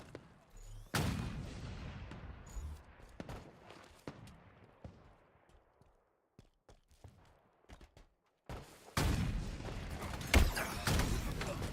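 Dynamo grenade blast in a Halo match, a sharp explosion followed by a decaying roar, set among scattered gunfire bursts, quiet gaps and later loud renewed firing.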